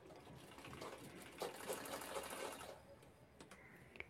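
A sewing machine stitches the corners of a handmade handbag in a quick, close, whirring run that stops near the end, with no voices.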